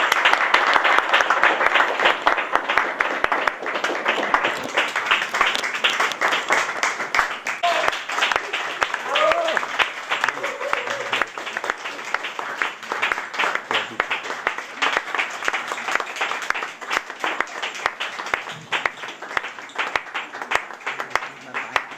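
Sustained applause from a crowd, dense and loud, holding steady for about twenty seconds with some voices mixed in.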